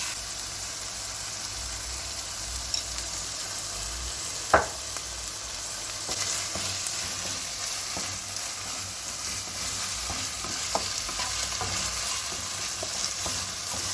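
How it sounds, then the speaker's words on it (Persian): Spices and tomato paste sauté in a pan for stuffed grape leaves, a steady close sizzle with a sharp metallic clack partway through and soft scraping strokes of the spoon, no talking. "کاملا همه این مواد رو با هم دیگه تفت میدیم قشنگ ربمون هم سرخ بشه"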